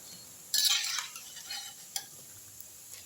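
Chickpeas frying in oil are turned in the pan, giving a sudden scraping sizzle that fades over a second, then a couple of lighter stirring clinks and faint crackle, close and with no talking.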